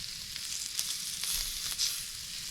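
Meat searing in a hot pan at a cabin, giving a soft, steady sizzling hiss with slight swells, fairly quiet and with no speech.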